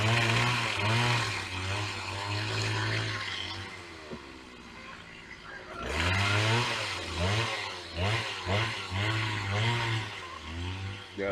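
A chainsaw runs close by outdoors on a mild day, its engine droning steadily with rising and falling revs, a brief dip near the middle before it roars back up.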